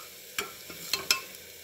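A spoon scrapes through a pan of matki being mixed with turmeric and salt, giving three quick, faint scraping strokes close by against a quiet background.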